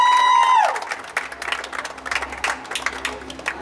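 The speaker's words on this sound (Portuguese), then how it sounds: "Pode bater palmas aí, pessoal." Guests at a birthday party clap and cheer in a lively crowd, with a tone sounding briefly at first, then scattered claps and voices mixing together at moderate loudness.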